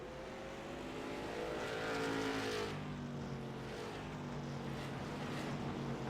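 Race cars run hard around a short track, their engines a steady, loud, dense roar whose pitch swells and slides as the machines pass, with no pauses throughout.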